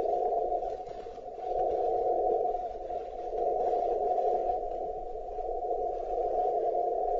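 Flex-Radio 6000 Series receiver output with AGC threshold turned down, a steady band-limited hiss and tone-like hum that swells and dips slightly in level, with no voices.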